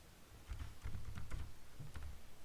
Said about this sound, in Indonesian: ketikkan Excel di sini